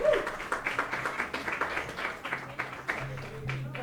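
A live-show audience claps for a performing group at an evening episode, a busy patter of hands lasting several seconds over a low steady hum and a murmur of voices.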